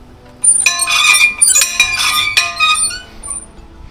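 A night bell at the old slave pillars in Curaçao rings out in a few separate metallic strikes, each leaving a bright, shimmering tone that hangs and slowly fades, with no talking.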